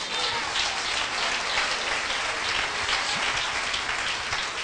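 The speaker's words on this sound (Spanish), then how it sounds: "denle un aplauso al Señor" A church congregation at a sermon claps continuously in a dense, even wash of applause, sounding almost like heavy rain, sustained at a constant level throughout with no voices.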